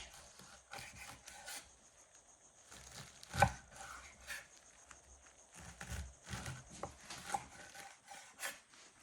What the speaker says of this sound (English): Then you're going to cut it in rounds. It's about maybe an inch.